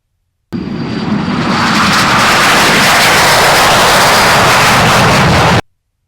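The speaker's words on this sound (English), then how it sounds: "experimental L39 jet on the roll" An experimental L39 jet roars at full power on its takeoff roll at a small Texas airfield, the loud engine noise rising quickly and holding steady for about five seconds before cutting off abruptly.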